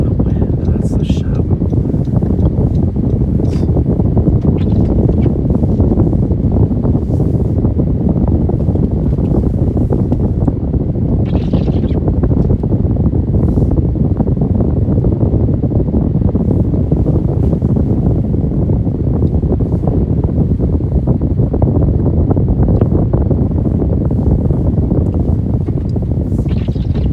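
Strong blizzard wind roars without a break, a loud, dense rumble of buffeting gusts against the microphone, as if heard from a moving vehicle during a winter storm in Iowa and Nebraska.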